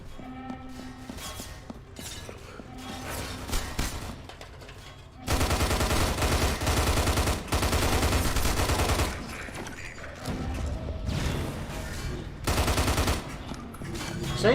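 Rapid automatic gunfire bursts from a Half-Life speedrun, sustained loud volleys with short gaps, some quieter shooting and movement between, no talking.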